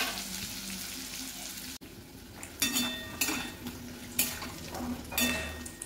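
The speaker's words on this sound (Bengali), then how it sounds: "আলুটা ভাজার সময় গ্যাসের ফ্লেম লো রেখে ঢেকে ঢেকে ভেজে" Potatoes fry in oil in a pan over a low gas flame, the lid on and off, giving a soft continuous sizzle. Several louder bursts of sizzling come as the pieces are stirred, with light clinks of a utensil against the pan.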